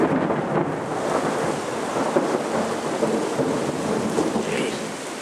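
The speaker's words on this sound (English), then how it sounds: "This is one hell of a storm." A thunderstorm in Plata rolls with loud, sustained rumbling thunder over steady heavy rain, filling the whole stretch with dense noise and no speech.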